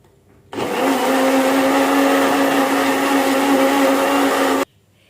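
An electric blender grinds lemongrass, turmeric, ginger, galangal, shallots and garlic for rendang paste. It starts with a loud, steady whirring roar that holds for about four seconds, then cuts off abruptly.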